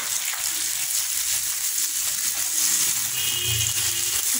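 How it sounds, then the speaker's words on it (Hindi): Shredded cabbage frying with boiled macaroni in a pan gives a steady, close sizzle with light scraping and stirring noises throughout. "इसको फ्राई कर लेंगे।"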